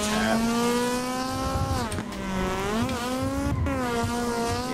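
Toyota AE86 with a 268 bhp engine drifting in tandem at Brooklyn Park in Assetto Corsa, engine holding a loud high-revving note that dips and rises between brief lift-offs, with tyre squeal underneath.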